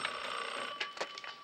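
A telephone rings in a bright, electronic warble: a few quick bursts close by, with a steady tone underneath and no voices.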